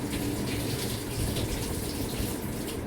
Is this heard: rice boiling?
yes